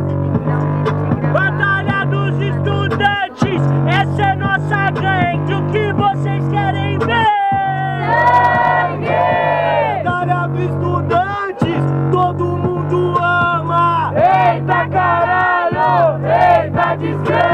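A crowd shouts and cheers in loud, sustained unison at a student rap battle semifinal in Guarulhos, São Paulo, with chant-like rising and falling calls and only brief breaks.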